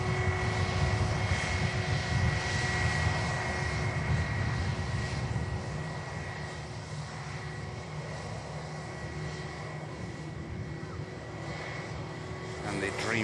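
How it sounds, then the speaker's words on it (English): A Ryanair Boeing 737 Max 8 from Cologne at Manchester Airport, its engines giving a steady, continuous jet roar that eases slightly partway through, with a voice talking over it. "Aircraft in Ryanair from Cologne, Max 8200 Golf Whiskey."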